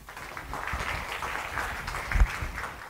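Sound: audience applause

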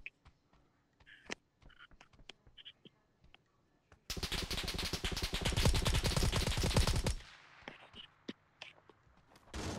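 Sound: gunfire in the video game PUBG New State

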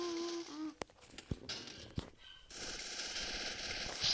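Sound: gunfire in a video game

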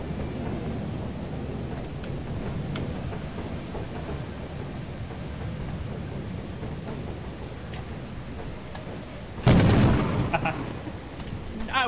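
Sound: lightning strike in the video game Lethal Company

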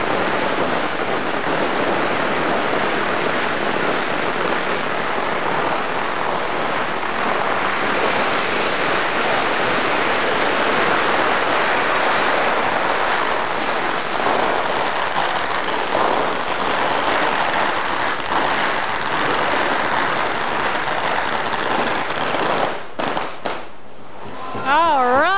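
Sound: firecrackers popping at Chinese New Year parade

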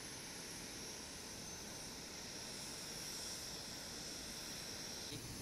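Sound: airplane being pushed back at Osaka Itami Airport

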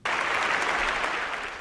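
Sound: audience applauding at Boston Symphony Hall

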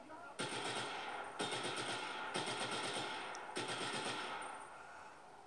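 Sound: automatic RPG launcher firing in video game Just Cause 3

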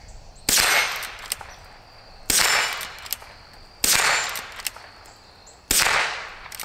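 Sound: Henry H001 rifle shooting red steel plates

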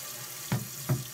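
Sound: Fluidmaster toilet fill valve refilling tank with water

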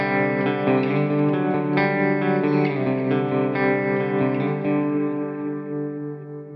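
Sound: Black Rooster Audio RO-GOLD plate reverb plugin effect

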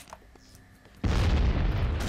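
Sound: grenade explosion in video game BloodRayne: Terminal Cut

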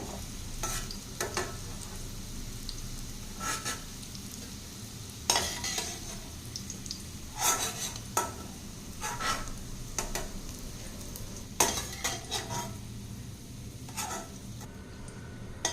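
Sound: sautéing and stirring bitter gourd in oil

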